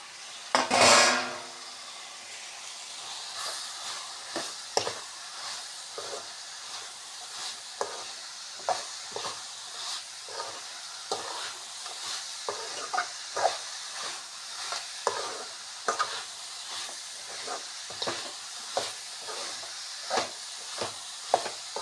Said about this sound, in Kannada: ಈಗ ಇಲ್ಲಿ ನಾವು ಹಲಸಿನಕಾಯಿ ಬೇಯಿಸಿದ್ದನ್ನು ಹಾಕ್ಕೊಂಡ್ಬಿಡೋಣ.